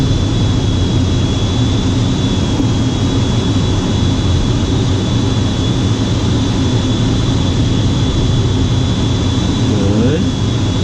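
A towed glider takes off behind a light aircraft, with a steady loud engine drone and wind noise filling the whole stretch, continuous and close, under a voice calmly giving flying instructions.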